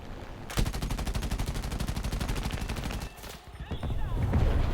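A P-51D-30 fighter's machine guns fire in War Thunder arcade air combat against a high-altitude Halifax bomber: a loud, rapid, steady burst lasting about two and a half seconds over constant engine drone, then the engine roars on alone.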